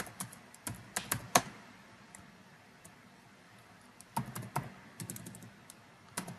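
Typing on a computer keyboard, close and fairly quiet, with quick clusters of sharp key clicks separated by a pause of a few seconds.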